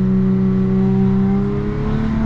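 A Porsche fitted with an aftermarket exhaust revs hard and close, its deep droning engine note steady and loud the whole time with no voices over it.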